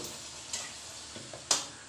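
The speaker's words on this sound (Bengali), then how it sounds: "এরকম করে প্রত্যেকটা ভেজে নেব না দুটো তিনটে একসঙ্গে দিয়ে দিচ্ছি" Coriander-leaf luchi fry in hot oil with a soft continuous sizzle, broken by a few light clinks and a sharper tap near the end, close and fairly quiet.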